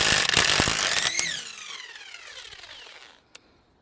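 A corded Parkside impact wrench rated at 400 Nm cracks a nut loose with a loud, rapid hammering rattle lasting about a second. The motor then winds down in a falling whine, followed by a single short click.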